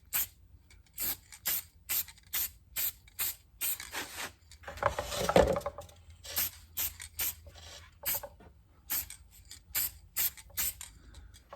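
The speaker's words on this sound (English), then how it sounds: "I'm just shaking the can, and we're going to paint the spray the base plate black" An aerosol spray paint can hisses in one longer burst while coating a die-cast model car base plate black, surrounded by a rhythmic series of short rattling shakes of the can, close and fairly quiet.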